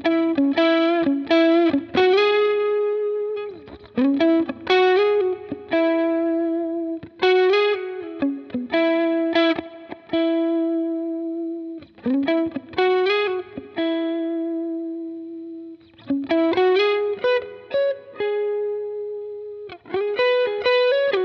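An electric guitar played through a simulated Klon Centaur overdrive on an HX Stomp, with mildly driven, sustained melodic notes and short phrases in a steady stream, close and alone.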